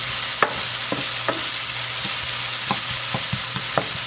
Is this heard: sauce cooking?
yes